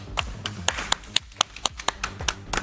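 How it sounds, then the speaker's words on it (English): A studio audience claps in scattered, distinct slaps, a dozen or so sharp hand strikes spread unevenly over a few seconds at a crypto trading game show, fairly close and with no talk. "let's give her a big round of applause"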